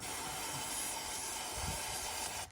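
Brake parts cleaner sprayed from an aerosol can through a straw into the thermostart flame start on a Yanmar 1500 diesel, a steady close hiss running unbroken for over two seconds before cutting off abruptly.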